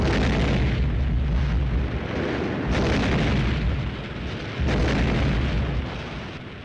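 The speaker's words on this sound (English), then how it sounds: "One of our ammunition dumps goes up." An ammunition dump blows up during a night artillery duel in a WWII newsreel, heavy rumbling blasts rolling continuously with a few sharper booms swelling out of the roar.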